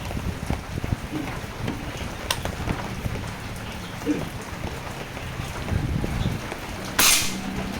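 Steady rain patters on a surface during a storm throughout, with a few sharper drips and a brief bright splash near the end.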